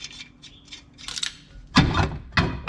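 A brake drum from a Toyota Hilux N70 KUN26R dual cab, mounted backwards on wheel nuts as a slide hammer to pull a rear wheel bearing, striking two hard metallic clunks close up after some lighter rattling.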